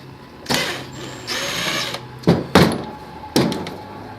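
A power drill drives a regular screw during a DIY oil and filter change on a BMW E90, with two drawn-out motor whirs followed by sharp clunks and knocks close by.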